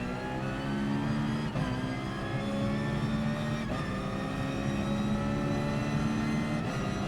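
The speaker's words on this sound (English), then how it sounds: "The Vision GT car does have a pretty cool sound." The Vision GT car in Gran Turismo Sport gives a loud, continuous engine drone with layered harmonic whine, holding steady with brief shifts in pitch as it drives alone without talk.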